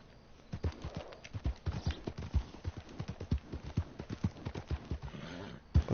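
Horse hooves clip-clopping in Red Dead Online, a brisk, steady rhythm of distinct close hoofbeats over several seconds with no talking.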